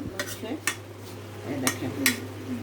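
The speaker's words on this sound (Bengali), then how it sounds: "আর সারাটা নাড়া দিয়ে দিচ্ছি শুটকি" Dried fish (churi shutki) being stirred in a pan, with clear scraping and clinking of a utensil against the pan at irregular intervals and a faint sizzle underneath.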